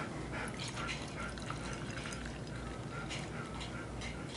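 Beer pouring into a glass just after a bottle is popped, with a steady liquid splash and trickle running the whole time at moderate level.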